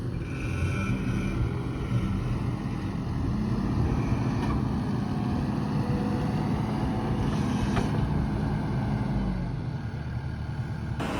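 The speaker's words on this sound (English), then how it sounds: "All right, we're getting some holes drilled finally." A rented 12-inch hydraulic auger drills fence post holes for a pipe fence, giving a loud continuous engine drone with low rumble and some wind buffeting, no talking.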